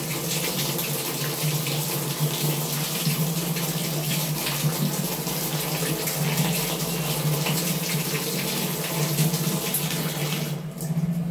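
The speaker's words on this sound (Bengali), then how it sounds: "এই তো আমি কিছু কাপড় চোপড় ভিজিয়ে নিচ্ছি" Tap water runs steadily for clothes being soaked at home, a continuous close splashing stream with no talk.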